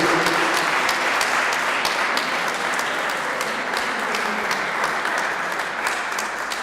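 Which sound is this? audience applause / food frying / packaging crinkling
audience applause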